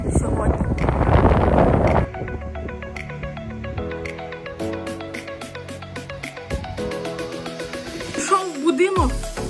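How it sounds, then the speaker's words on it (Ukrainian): Strong wind roars and buffets the microphone for the first couple of seconds, then drops away, leaving quieter tonal sounds and a voice. "Вітер дуже сильний."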